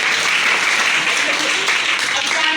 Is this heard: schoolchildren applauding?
yes